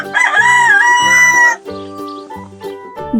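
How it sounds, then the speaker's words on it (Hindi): A rooster crows loudly with a long harmonic call, followed by a run of short, evenly spaced chicken clucks, close and clear with no talking. "मुर्गी"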